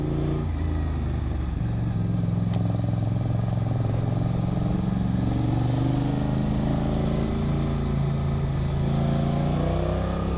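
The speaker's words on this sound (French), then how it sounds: "Toujours accéléré comme une brute en sortie de virage" A Suzuki GSX-8S motorcycle accelerates hard out of a bend on a twisting mountain road, its engine revving loud and close in a sustained, rising pull over steady wind noise.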